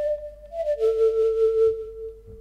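Synthesized flute melody with a subtle auto-pan flutter effect, a few sustained notes gliding between pitches with a gentle airy pulsing, clean and alone.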